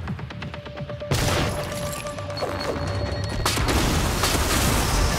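Shotgun blasts in the sci-fi video game Prey, a loud burst of gunfire cutting in after a quiet start and followed by dense, rumbling booms and crashes of combat.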